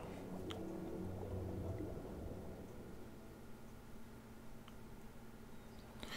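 A waterfall in a Black Desert Online trailer gives a steady, soft rushing roar of falling water that fills the whole stretch evenly, faint and continuous with a few small clicks on top.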